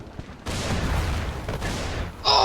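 Explosions and gunfire in the video game Dying Light: a sustained, loud roar of booms and shots that suddenly swells, runs as dense continuous battle noise, then ends in a sharp, bright burst.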